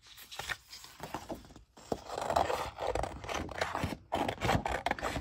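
Scissors cut out paper hearts with continuous close, raspy scraping and crisp snipping, a brief pause after the first stretch, then steady cutting again.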